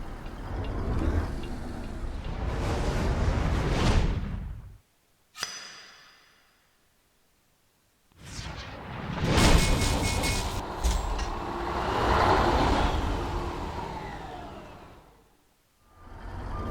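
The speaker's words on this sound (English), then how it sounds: "the sound that this truck's making, Red Thunder, we're using the Zeemods Caterpillar 3408 today." A heavy Caterpillar 3408 diesel truck engine in American Truck Simulator roars steadily, cuts out briefly, then revs back up and drones on loudly.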